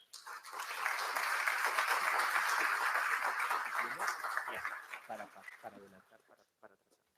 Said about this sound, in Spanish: recibamos con fuertes aplausos al doctor Julio César Espinosa Goyena